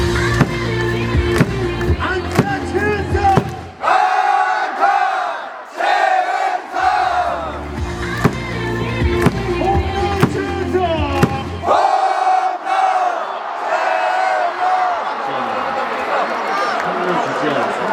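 A large baseball stadium crowd chants a loud, rhythmic cheer for batter Choi Hyun-sung, led by a cheerleader, with steady claps punctuating the chant and voices rising and falling together in repeated phrases.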